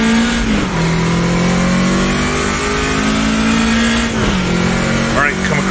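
A race car engine in the Automobilista 2 driving game drones steadily up close, shifting pitch as the throttle is worked through corners. Someone talks over the engine throughout.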